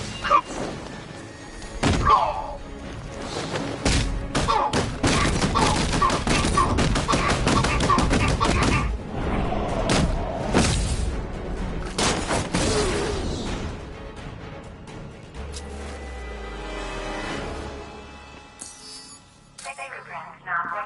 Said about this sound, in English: Shot at you, Batman.